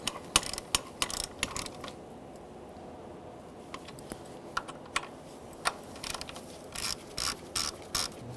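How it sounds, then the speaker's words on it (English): A hand ratchet clicks in quick bursts snugging intake manifold bolts on a 2000-2007 Ford Taurus 3.0L V6, close and crisp, with short pauses between runs of rapid clicks. "now we're just going to snug those up"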